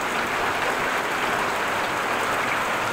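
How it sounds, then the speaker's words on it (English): Heavy rain falling during a thunderstorm in Groningen, a steady even roar of dense drops on surfaces, continuous and close with no other sounds standing out. "First we have the thunder and lightning, and now we have the rain."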